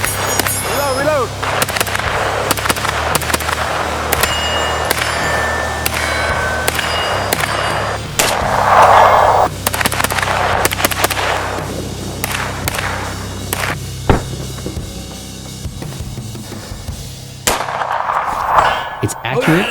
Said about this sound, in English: The recoil impulse is surprisingly soft and predictable for a blowback gun